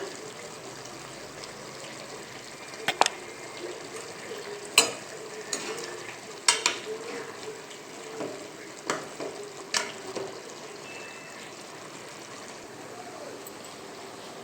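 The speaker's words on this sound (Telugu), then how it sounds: "మరలేసుకుందాం మరలేసుకుంటే కింది సైడ్ కూడా మంచిగా ఉడుకుతాయి" Fish pieces get turned in a pot of simmering fish curry, giving a gentle bubbling sizzle with several sharp scraping and clinking knocks of a utensil against the pot.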